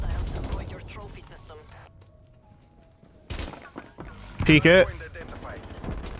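Gunfire in the game Call of Duty: Black Ops Cold War during a multiplayer match, with a few sharp shots and bursts breaking through between stretches of a player's talking.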